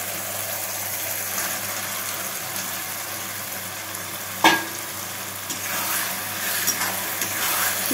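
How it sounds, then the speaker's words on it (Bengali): Tomatoes frying in a pan over already fried onion and garlic for chilli chicken, a steady close sizzle running throughout with a brief louder clatter of stirring midway and light scraping near the end. "তো এবার ভালোভাবে ভেজে নেবো"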